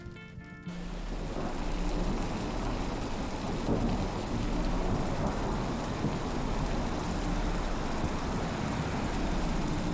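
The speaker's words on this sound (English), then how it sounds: "Such a rainy night." Video game rain and thunder on a stormy night: after a short quiet opening, a dense, steady downpour sets in, with a low, constant rumble of thunder beneath it.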